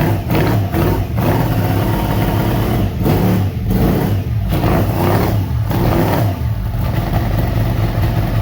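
Golf cart fitted with an R1 motor and rated at 200 horsepower runs loud and close, a deep, throaty, rough idle like a big block V8, broken by several sharp throttle blips.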